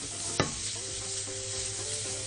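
Onions frying in butter give a dense, even sizzle throughout, with one brief sharp clack early on, close and steady.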